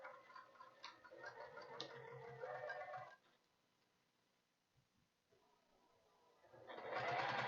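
A sewing machine stitches through thick Soft and Stable foam on a Soxbox knitting project bag, a steady rapid mechanical whir running for about three seconds, pausing, then starting again close and fairly loud.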